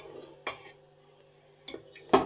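Mutton is sautéed in a pan for kala mutton, with three distinct scraping strokes of a spoon against the pan over a low, quiet sizzle.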